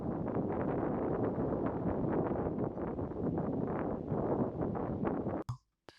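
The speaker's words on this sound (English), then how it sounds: "We don't need the audio because it's really windy." Strong wind buffets an outdoor camera microphone in a steady, loud roar of low rumble and gusts, then cuts out abruptly near the end.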